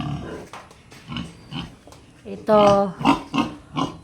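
Pigs on a hog farm, short grunts and squeals close by, coming in bursts under a person speaking.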